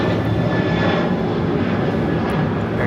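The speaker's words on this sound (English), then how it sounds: "2689 taking off to Chicago O'Hare on a 737-800." An American Airlines Boeing 737-800 taking off from LAX bound for Chicago O'Hare: a loud, continuous jet engine roar with a faint high whine, steady and close for the whole short stretch.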